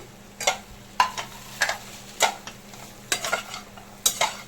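Fried peanuts are stirred into a potato curry in a pan, with a spoon scraping and clinking about six times at an irregular rhythm over a soft, steady sizzle, close up with no talk.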